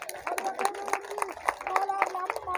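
A crowd at a public gathering in Patna gives scattered, uneven clapping, with individual sharp hand claps standing out while voices talk over and between them.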